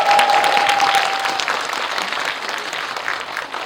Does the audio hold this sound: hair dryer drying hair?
no